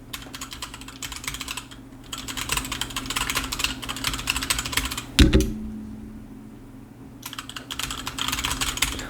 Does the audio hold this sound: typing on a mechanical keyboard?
yes